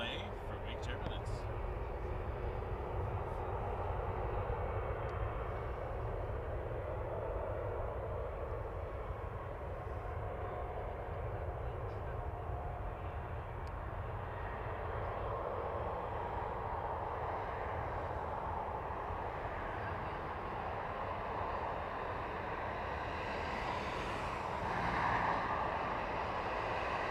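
An Airbus A319 airliner's engines at Toronto Pearson Airport produce a continuous distant roar and rumble, steady throughout and swelling slightly near the end, with faint wind noise mixed in.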